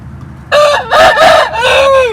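A young rooster crows nearby, a loud, strained cock-a-doodle-doo with a rising start and a long drawn-out ending, no talking.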